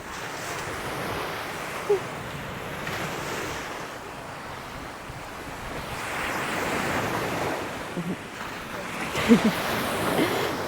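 Wind sweeps steadily across a sunny seaside beach, with surf rolling in underneath and a few brief knocks and bumps; the gusting noise stays at a moderate level throughout the clip.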